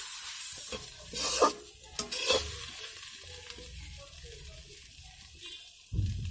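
Food is stirred in a frying pan with sugar added, a close, sizzling fry broken by scraping stirs and a few louder clanks of the utensil against the pan.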